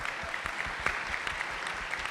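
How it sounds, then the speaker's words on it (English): Steady round of applause from a conference audience at a policy session, continuous mid-level clapping with scattered sharper claps throughout, no talk over it. "Give a round of applause."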